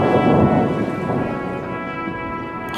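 Heavy rain pours down steadily while thunder rumbles loudly, the storm close and continuous with no voices present.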